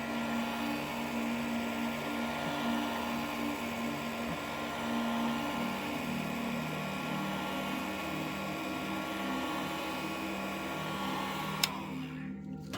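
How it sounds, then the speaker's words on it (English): A heat gun blows steadily on wet paint over a resin model horse, a continuous, fairly quiet whirring hum with no talk, cutting off abruptly near the end. "I'm going to hit it with the heat again to speed up the drying."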